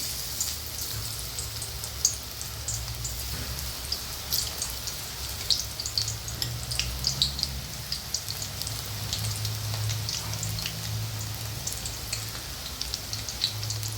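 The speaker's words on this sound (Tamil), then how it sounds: "நல்லா எண்ணெய் சூடாகிடுச்சு, பொரிச்சு எடுத்துடலாம்." Marinated soya chunks deep fry in hot oil for a crispy snack, giving a soft, steady crackling sizzle like light rain with scattered small pops, fairly quiet and uninterrupted.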